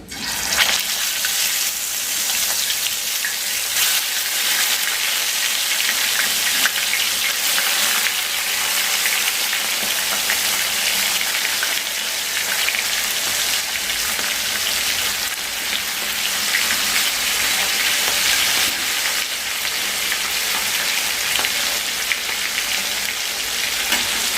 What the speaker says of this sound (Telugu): ఇవ్వండి ఇప్పుడు మండీ పీసులు, లెగ్ పీసులు ఇప్పుడు దీని మీద తవ మీద ఫ్రై చేసుకోవాలి.